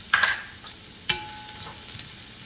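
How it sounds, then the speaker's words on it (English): Garlic cooking in sesame oil in a small wok, a few brief stirring scrapes and light sizzling bursts, close and fairly quiet, with a short tonal clink. "cook the garlic for a little bit to get the bitterness off of there"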